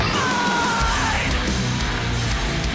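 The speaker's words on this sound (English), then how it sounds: "He's got a good scream." A metal vocalist's harsh scream tears through a dense, loud band mix in a reviewed song, sustained without pause over heavy guitars and drums.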